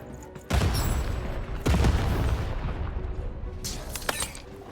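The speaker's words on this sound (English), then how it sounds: "Shoot the button to fire the cannon." Heavy booming cannon blasts in a video game fire in quick succession, loud and close, with rumbling between shots and a couple of sharper cracks near the end.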